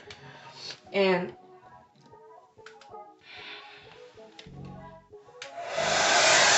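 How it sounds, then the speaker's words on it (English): Blow dryer drying glued sections of a synthetic wig, its broadband whoosh rising loud and steady toward the end after moments of talk and small handling noises. "I'm gonna take my blow dryer"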